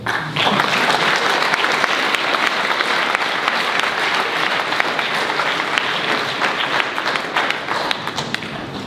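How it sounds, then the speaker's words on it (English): A large school audience applauds steadily at a senior awards ceremony after a top student is honoured. The clapping is loud, sustained and dense for the whole stretch, with no speech over it. "Please clap for him."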